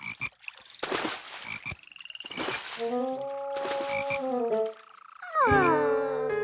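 Cartoon frogs croak inside a bathtub in a rapid series of loud, gurgling calls and tonal croaks, some rising and warbling, building to a final bright, wavering chorus.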